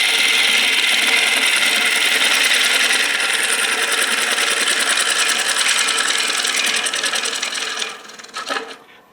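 A carbide cutter on a lathe hollows the inside of a spinning wooden bowl, giving a loud, steady hissing scrape for about eight seconds before the cut eases off into a few rougher, fading strokes.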